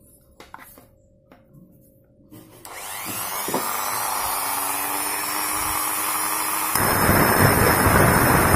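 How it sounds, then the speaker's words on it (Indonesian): A few faint clicks, then an angle die grinder spins up with a loud, sustained high whine and harsh cutting noise, cutting a motor scooter's CVT pulley collar, growing rougher near the end. "Saya menggunakan angle die grinder."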